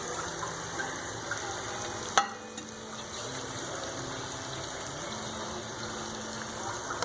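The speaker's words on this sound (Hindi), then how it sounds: "ये हमारा अदरक लहसुन का पेस्ट इसमें ऐड करेंगे।" Ginger garlic paste frying in oil in a karahi for chicken white karahi, a faint steady sizzle with a sharp clack from the utensil partway through.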